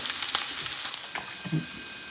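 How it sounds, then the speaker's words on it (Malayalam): Fennel seeds, ginger and garlic fry in oil over a slow flame for a shrimp roast, with a steady close sizzle and light crackles and no talking. "ആ പെരിഞ്ചീരകം നന്നായിട്ട് മൂത്തു, ഇഞ്ചിയും വെളുത്തുള്ളി അതിൽ കിടന്ന് നന്നായിട്ടങ്ങ് മൂക്കട്ടെ"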